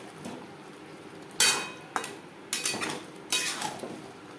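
Potatoes for alur dum cooked in mutton fat are stirred in a metal pan: a few distinct scraping clanks of a spoon against the pan, close and fairly loud, with quiet gaps between strokes.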